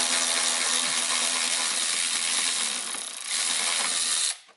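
A ratchet wrench removing bolts during a Ford Fiesta intercooler install, a loud, close, continuous rapid clicking whir for about four seconds before it stops abruptly.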